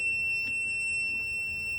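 A steady, high-pitched electronic alarm tone from a UV plastic bag single-pass printer sounds continuously and evenly during ink loading, over a faint low background hum, with no breaks.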